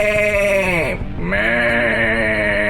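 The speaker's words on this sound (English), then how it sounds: "I have here a prepared recording from the Division of Goats." A goat bleats in one long, loud, nasal cry from a prepared recording, its pitch sagging briefly in the middle before rising and holding steady to the end.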